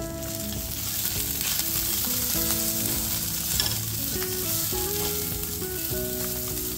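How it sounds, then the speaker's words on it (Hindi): Onions fry in a pan, browning with a constant close sizzle and occasional stirring scrapes, while soft background music plays throughout without speech. "थोड़ा ब्राउन हो जाएंगे जब प्याज,"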